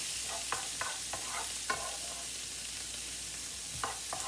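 Peppers, mushrooms and onions fry in a pan with a soft continuous sizzle, punctuated by a handful of scraping, clinking stirs from a utensil, and no voices.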